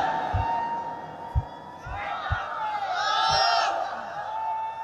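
A crowd at a Bengali Islamic religious sermon in Chuadanga shouts takbir in unison, a swelling roar of many voices rising and holding for a couple of seconds.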